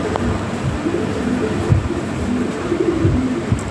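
A pair of European Toy Lahori pigeons coo softly and repeatedly against a steady background hum, with low, throaty calls recurring through the stretch.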